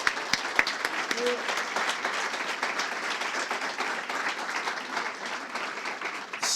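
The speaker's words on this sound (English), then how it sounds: "Let's give another round of applause to Ms." Audience applause at an MLK honoring event, a few sharp opening claps building into steady, moderately loud clapping from a crowd that carries on evenly before tapering near the end.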